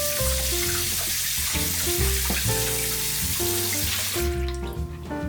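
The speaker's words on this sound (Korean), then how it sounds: "흐르는 물에서 씻어주면서 비늘이 잘 벗겨졌는지 확인해주세요." Tap water pours over a flounder being rinsed under a running faucet, a steady close splashing rush overlaid with tonal background music.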